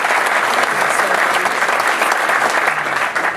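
An audience at a community theater volunteer gala applauding an honoree, a dense, steady wash of clapping across the room that holds strong throughout before easing off at the very end.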